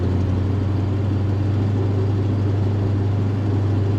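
A 1967 Dodge Dart's engine hums steadily as the car drives along, a continuous low-pitched drone that holds even and fairly loud from start to finish.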